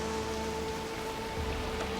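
Steady soft patter of rain falling in the Roman-era city-building game Anno 117: Pax Romana, a faint continuous hiss with no voices.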